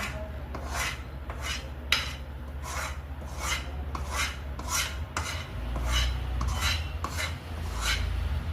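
Jaggery is stirred into ghee in a very hot wok, giving a steady rhythmic scraping and rasping as the spoon drags around the pan, about a dozen strokes with no talk.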